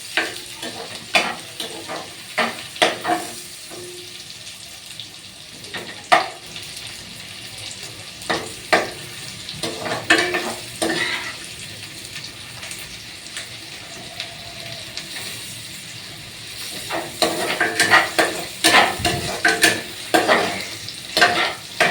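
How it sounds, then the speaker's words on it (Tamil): Tomatoes sautéing in a pan for pasta, giving a soft steady sizzle broken by bursts of scraping and clattering as a spoon stirs them, the strokes growing busier near the end. "நல்லா கை கொஞ்சம் ரெஸ்ட் விட்டு வதக்குங்க"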